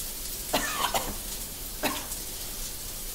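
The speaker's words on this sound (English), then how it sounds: "Still coughing up blood." A character in the video game Cyberpunk 2077 coughs in a few short, harsh bursts, a cluster near the start and one more a second later, close and clear over a quiet background.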